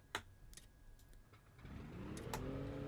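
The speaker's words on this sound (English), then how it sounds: "There's our engine on." Cessna CH-1 Skyhook helicopter engine starting in the Microsoft Flight Simulator game, a few sharp clicks first, then a low rumble building and settling into a steady hum, quiet overall.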